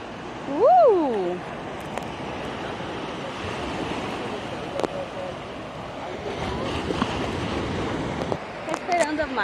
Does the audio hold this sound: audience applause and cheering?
no